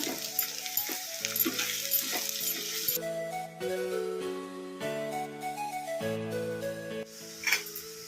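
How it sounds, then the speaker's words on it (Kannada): Spinach (palak) fry being stirred with salt in a pan over a medium flame: a steady, close sizzle runs throughout, broken by the scraping and knocking of the spoon against the pan, with no talking. "ಈಗ ಒಂದು ಸ್ಪೂನು ಉಪ್ಪು ಹಾಕೋಣ ಕಲಸ್ಕೊಂಬಿಡೋಣ"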